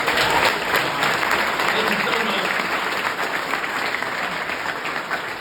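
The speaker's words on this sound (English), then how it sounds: "Round of applause, please." A startup demo day audience in Chicago gives a loud round of applause, dense clapping that starts strong and slowly tapers, while a presenter speaks briefly over it.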